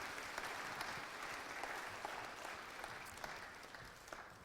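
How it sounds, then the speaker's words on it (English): An audience claps continuously, a soft and fairly distant patter of many hands that fades slightly toward the end. "I give them a round of applause"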